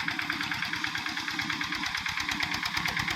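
A small modified tractor engine chugging steadily at a fast, even rhythm, close by and loud, with no talking over it.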